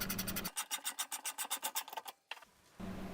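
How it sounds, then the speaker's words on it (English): Three-leg puller working a pulley off the spindle of a 43-year-old British garden tractor's mower deck, a rapid series of about fifteen close rasping metallic strokes followed by a short pause and a steadier grinding scrape. "I'm going to use a 3-leg puller, which is obviously better than 2."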